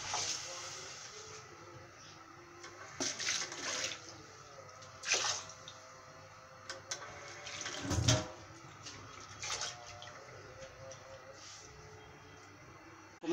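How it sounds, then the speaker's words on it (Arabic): Water pours into a cooking pot on the stove for rice pudding, running in uneven splashing bursts that sound close by and fairly quiet, with a louder gush near the middle. "وحطيت المية."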